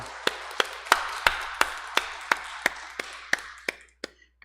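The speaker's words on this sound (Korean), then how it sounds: "우리 박수로 하나님께 영광 올리겠습니다" Church congregation claps in slow, even unison, about a dozen sharp claps at a steady beat over a soft hum of the room, thinning to a few scattered claps at the close.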